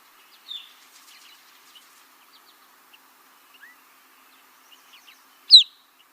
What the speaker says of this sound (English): Kind of a pure tone whistle compared to the ones we have here in the east.